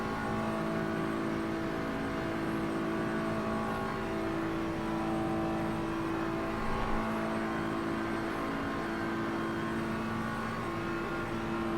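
Race cars, a Ferrari and a BMW, in a racing game, holding a steady high engine drone at top speed, a continuous loud whine with no breaks or gear changes.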